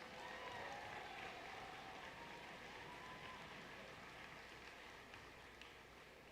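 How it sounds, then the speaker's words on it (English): Distant, faint applause from a crowd in a large hall at the alliance selection of a FIRST Robotics competition event, sustained and fairly even, with a rain-like wash of clapping. "Big round of applause for all the teams we have over there"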